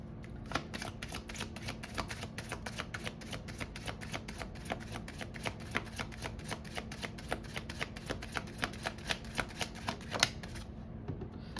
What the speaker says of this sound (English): let's pull some oracle cards for you for advice